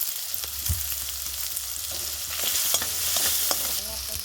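Garlic, ginger and chili paste sizzle steadily in a pan, a dense bright hiss with a few sharp clinks and scrapes of a spatula, close and fairly loud with no voices.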